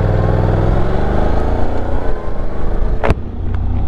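A Honda NC750X motorcycle engine revs hard and loud up close, its deep throbbing note rising in pitch, then a sharp burst near the end before the engine settles back.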